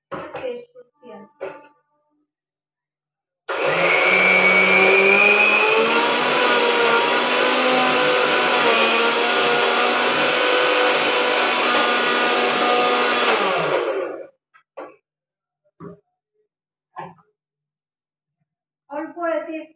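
A mixer grinder blends a thick paste of ingredients with little salt and no water, roaring loudly and steadily for about ten seconds before stopping abruptly, with someone talking briefly before and after.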